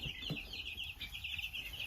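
Meat chickens clucking and murmuring close by on a homestead, a steady busy flock chatter with some higher chirps throughout.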